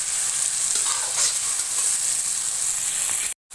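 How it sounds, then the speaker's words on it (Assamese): Tomatoes and cashews fry in a pan with already-browned ginger and garlic while a chicken curry is made, a close, steady sizzle with stirring scrapes, broken by a brief silence near the end. "এতিয়া বিলাহীখিনি দি দিম আৰু কাজুকেইটাও দি দিম এতিয়া এইখিনি অলপ ভাজি থাকিম"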